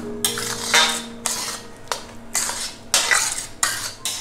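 A metal spoon scrapes and clatters against a pan in repeated bursts while cardamom powder is mixed into mango kalakand, with short pauses between strokes.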